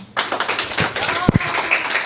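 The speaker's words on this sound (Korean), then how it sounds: "가장 뜨거운 박수 부탁드립니다." Audience applause at a Korean community council orientation in Los Angeles, a short burst of clapping and cheering with some voices mixed in.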